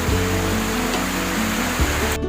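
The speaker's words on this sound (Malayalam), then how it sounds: "ഭയങ്കര മഴയാണ്" Heavy monsoon rain pours down steadily in a Kerala setting, a dense, loud, continuous wash of water noise with a low rumbling layer beneath, holding evenly throughout before cutting off abruptly at the very end.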